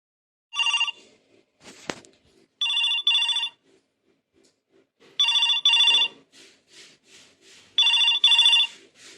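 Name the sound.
telephone ringing during a phone call in a cartoon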